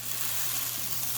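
Strawberry banana gluten-free pancake batter fries in a pan with a steady, close, soft sizzle and no voices over it.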